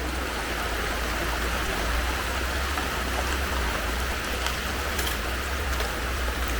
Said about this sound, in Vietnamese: Tuy nhiên bây giờ ở ngoài đang mưa một chút.